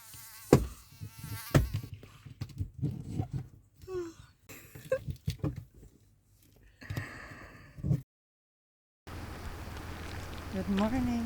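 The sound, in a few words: mosquitoes buzzing inside a campervan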